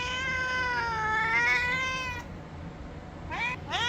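A cat meows loudly and close in a long, drawn-out wailing call, followed after a brief pause by two shorter rising meows.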